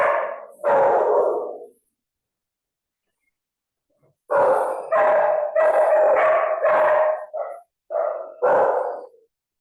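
A dog barks loudly and close, one or two barks, then a pause, then a rapid run of several barks with a drawn-out, howl-like tone.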